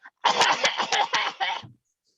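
A voice actor imitates a cartoon girl's cough, Dot from Animaniacs, as a quick run of about six close, raspy bursts lasting just over a second, followed by silence.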